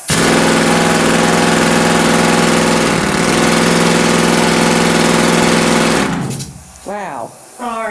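An old pneumatic mining rock drill, which spins and hammers at once, roars loudly and continuously with a fast rattling hammer, then cuts off near the end as voices react.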